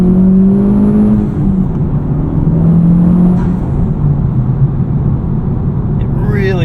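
A 2023 FL5 Honda Civic Type R fitted with a Cobb Redline carbon fiber intake drives along with a low, steady engine drone and road rumble heard from inside the cabin, while someone talks over it.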